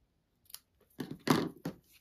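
Scissors snip ribbon on a handmade card: a few quick, quiet cuts and a soft crinkle, heard alone up close.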